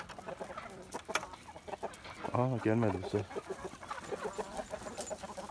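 Farmyard chickens cluck and squawk in agitated bursts, with one loud burst midway, as a dog chases them; someone speaks briefly.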